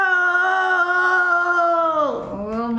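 A man mimics a goat bleating, a loud, nasal, wavering cry that dips in pitch near the end and then rises into a short second bleat.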